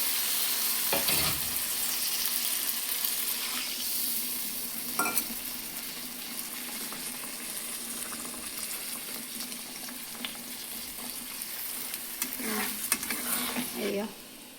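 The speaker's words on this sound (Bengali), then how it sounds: "একটু জল দিব পরিমাণ মতো জল দিচ্ছি" Fish curry sizzling and bubbling steadily in a pan as water is poured in, with occasional clinks and stirring scrapes of a utensil at close range and no talking.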